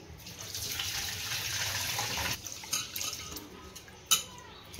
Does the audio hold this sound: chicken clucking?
no